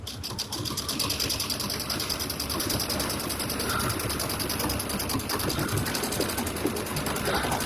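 An embroidery sewing machine stitches a spider web design for a Halloween spider coaster, its needle running in a fast, steady, continuous whir at close range with no talking.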